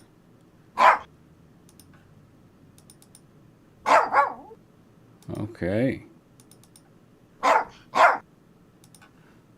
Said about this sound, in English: there's the barks. These are the barks.